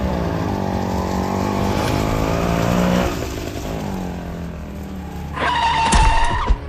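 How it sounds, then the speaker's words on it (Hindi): Cartoon auto-rickshaw accelerating as the driver floors the pedal, a loud rising engine roar with buzzing harmonics, easing off midway, then a sharp squealing burst and a thump at the end. "फिर गुल्ली एक्सीलेटर पे पूरा पैर दबा देता है और गाड़ी तेज हो जाती है"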